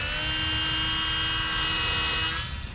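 Small electric motor of an RC Radian model airplane throttling up for takeoff, a steady high-pitched whine with a strong buzzing hum, close and loud, holding level for nearly three seconds.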